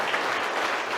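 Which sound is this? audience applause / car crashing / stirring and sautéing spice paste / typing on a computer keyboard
audience applause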